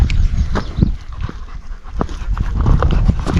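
Major the dog moves along a red-marked mountain trail in the Karkonosze, with soft footfalls and panting-like rustles close by over a steady outdoor background, no talking.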